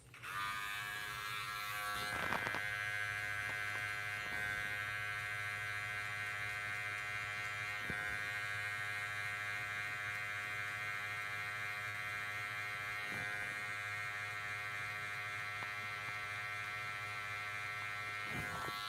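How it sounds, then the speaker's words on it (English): Electric hair clippers with the lever open, used for a self-administered buzz cut and burst fade, give a steady close mechanical hum that runs unbroken for nearly twenty seconds. Faint brief shifts in tone occur as the blades move through hair; no talking. "grab our clipper with the lever open"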